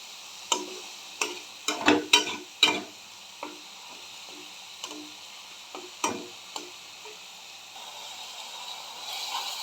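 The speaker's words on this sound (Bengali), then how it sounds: "পেঁয়াজ বাটাটাকে ভালো করে কষে নেব।" Onion paste frying in a pan while being stirred, a faint background sizzle punctuated by irregular close scrapes and clinks of a utensil against the pan, quieter toward the end.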